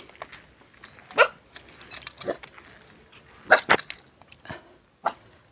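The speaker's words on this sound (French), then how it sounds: "Oh, un petit chien sauvage." A small wild dog in the Moroccan mountains barks a few times, short sharp yaps spread across the clip with quiet outdoor background between them.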